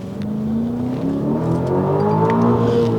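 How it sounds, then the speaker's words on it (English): A 2023 Aston Martin DBX accelerating hard, its exhaust a loud, continuous rising drone heard from inside the cabin, with engine harmonics climbing steadily in pitch over three seconds. "you can hear the exhaust"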